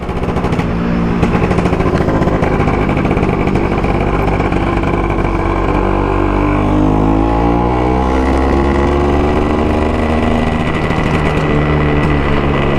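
A Vespa PX scooter fitted with a Pinasco 251 kit runs loud and close, its rapid two-stroke exhaust crackle holding steady while the pitch slowly rises and falls as the revs change over the whole stretch.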